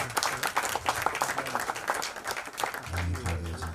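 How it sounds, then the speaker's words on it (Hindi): Applause from the audience at a film trailer launch event greets the actress Claudia: dense, steady clapping fills the room, with a voice speaking over it near the end. "क्लॉडिया के लिए जोरदार तालियां प्लीज"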